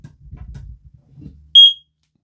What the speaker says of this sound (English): So now they're pairing together. You can hear all the beeping and such.